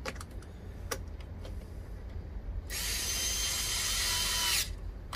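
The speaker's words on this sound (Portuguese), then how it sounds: "Aí coloca o parafuso, o último parafuso aqui dessa parte interna." A screw is driven with a power screwdriver while a Philips air fryer is reassembled, giving a steady whirring drone for about two seconds after a few light taps and clicks.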